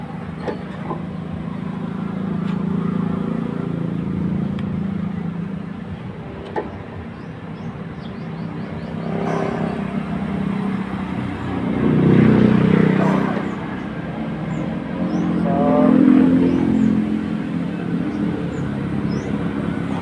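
Fan motor of an LG 3-ton floor-mounted air conditioner with a cooling fault, starting up: a steady, close whirring hum with a broad airy rush that swells louder twice toward the end.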